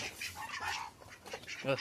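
Several ducks quacking in short, raspy bursts at close range, with a louder honking call near the end, mixed with people talking nearby.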